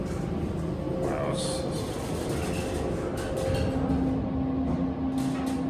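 A KONE EcoSpace machine-room-less traction elevator rides upward with a steady low rumble and hum. A faint tonal whine joins partway through, and a few brief clicks mark the ascent.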